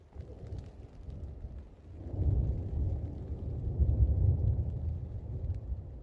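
A low, rumbling roll of thunder swells in the distance and lingers, soft and muffled, heard from inside a tent on the Arizona Trail, with a faint patter of rain beneath.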